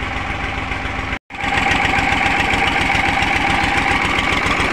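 A repaired tractor engine runs at a steady, loud, throbbing idle, with a knocking pulse. It cuts out for a split second, then resumes evenly.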